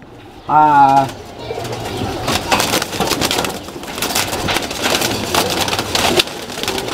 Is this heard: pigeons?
yes